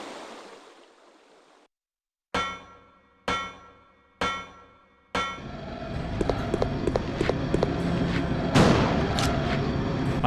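Shotgun blasts in the survival horror game Resident Evil Code Veronica: four loud, evenly spaced booming shots with decaying tails, followed by dense clattering, metallic clangs and a busy ambient mix.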